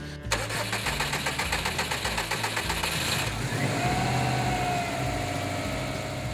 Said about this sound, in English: when you go to crank your car over, it's going to crank over a couple more times before it starts